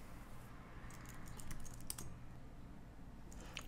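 Rapid keystrokes on a computer keyboard while JavaScript code is typed, a quick irregular run of clicks held at a steady close level over low background hum, with no talking.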